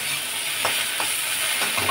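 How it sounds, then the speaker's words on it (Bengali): Brief, loud, continuous sizzle of okra frying in a pan, with a few soft stirring scrapes breaking through the hiss and no voices. "এখন ঢ্যাঁড়স ভাজাটা করে নেবো আগে"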